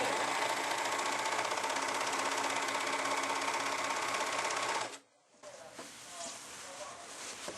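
An overlock serger runs steadily as fabric is fed through, a loud continuous mechanical whir for about five seconds that stops abruptly, followed by quieter handling noises and faint talk.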